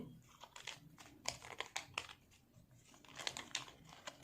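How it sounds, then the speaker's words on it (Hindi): Tarot cards slipping out of a deck while being shuffled make soft papery slaps and crinkly flicks, faint and close, in irregular clusters of quick taps with short pauses between them. "काफ़ी कार्ड्स अपने आप गिर रहे हैं"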